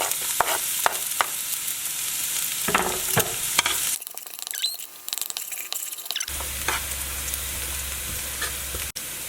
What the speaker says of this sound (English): go ahead and add your chopped garlic.